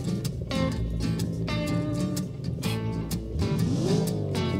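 Custom-built car engine in the BeamNG video game, a loud continuous revving drone with shifting pitch and strong harmonics, alone without talk.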